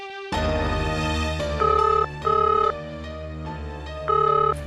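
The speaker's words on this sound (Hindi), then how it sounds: "फोन बज रहा है जी।" A telephone rings indoors at a family dinner in a Hindi TV drama, a loud electronic melodic ringtone repeating in bright bursts, heard alone without voices.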